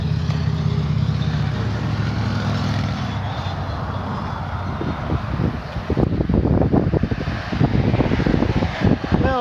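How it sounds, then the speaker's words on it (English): Road traffic along the Florida Keys rushes past under wind buffeting the microphone, a continuous roar of passing vehicles that grows choppier and louder toward the end. "I guess the only drawback though is you do get a whole bunch of traffic noise"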